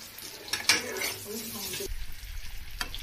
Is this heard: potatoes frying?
yes